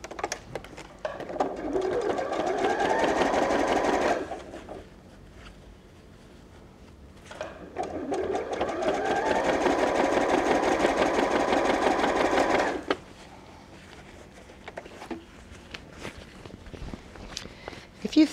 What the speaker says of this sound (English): just zigzag stitch again the bottom of your lining to the bottom of your outer